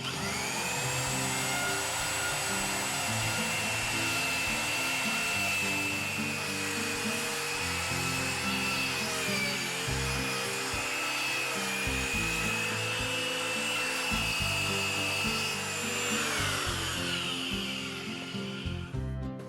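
Drill whining steadily as it bores rotten wood out of an old window corner, close and moderately loud with a sustained high tone that sags and recovers under load, no talk.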